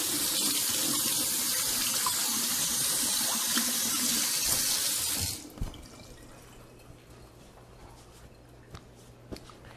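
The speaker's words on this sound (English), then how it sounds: "I'm gonna go ahead and rinse my hand off." A kitchen tap runs steadily and loudly as a hand is rinsed beneath it during pizza making, then shuts off abruptly about halfway through, leaving quiet room tone with a few faint drips and clicks.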